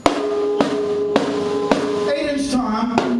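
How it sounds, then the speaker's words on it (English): Ten-inch snare drum with the snares engaged on a left-handed kit, struck about every half second in a steady pulse of crisp, rattling hits, close and moderately loud, with a brief busier flurry near the end. "And when the snare's on, it sounds like this."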